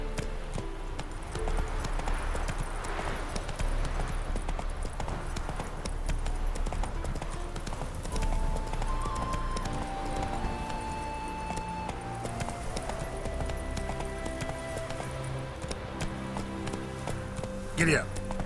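Horse hooves clip-clopping in a steady galloping rhythm in The Witcher 3, continuous and moderately close for the whole stretch, with faint rain-like texture and a brief rider's call near the end.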